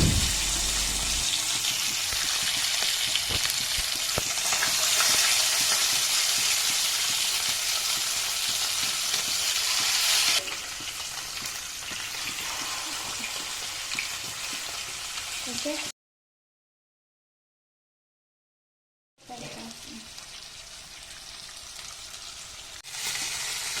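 Tilapia frying in hot coconut oil: a steady, dense sizzle and crackle close up, continuing for a long stretch with a brief silent gap before resuming, with faint speech.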